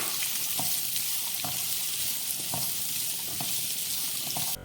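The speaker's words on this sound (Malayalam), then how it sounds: "അതിലേക്ക് ചെറുതായി അരിഞ്ഞ തേങ്ങാക്കൊത്തും 2 പച്ചമുളക് 2ആയി പിളർന്നതും 3 സവോള ചെറുതായി അരിഞ്ഞതും ചേർത്ത് വഴറ്റിയെടുക്കാം" Chopped coconut, split green chillies and sliced onions sizzle steadily in a hot pan for Kerala-style beef curry, with a constant close frying hiss broken by regular soft scrapes of a stirring spoon.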